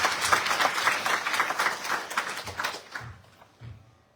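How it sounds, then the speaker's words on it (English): Audience at a Hindu temple's Navaratri evening applauds a drummer, a dense round of clapping that thins into a few last scattered claps and dies away. "Give Dhanesh a lovely round of applause"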